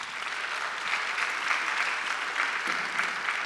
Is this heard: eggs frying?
no